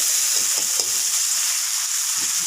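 Lightly frying onion and tomato, a constant close sizzle with small crackles and a few gentle stirring knocks.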